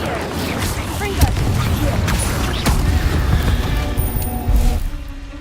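Incendio and Confringo spell blasts in the video game Hogwarts Legacy, loud booming bursts and creaking mechanical impacts layered densely over a few seconds, with a voice calling out over them.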